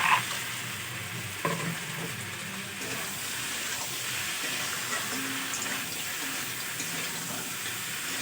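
Malabar spinach, pumpkin and potato fry in a pan village-style after lentil bori dumplings go in, a steady close sizzle with scattered stirring scrapes and clinks throughout.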